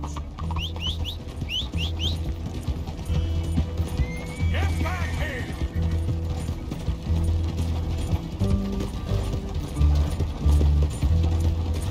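A horse whinnies amid clip-clopping hooves and mechanical game-like noises in Red Dead Redemption 2, with a voice talking over the scene.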